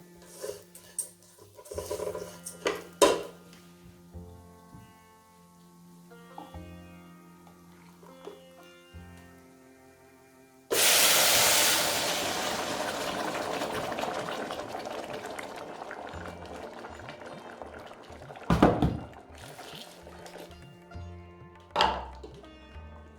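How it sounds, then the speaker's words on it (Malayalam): Water from two glasses is poured into a pot of raw white rice for an Indian-style fragrant rice, a steady rushing splash lasting several seconds after quieter kitchen clinks and taps. "ഇനി നമുക്ക് ഇതിനകത്ത് വെള്ളം ഒഴിച്ചു കൊടുക്കാം."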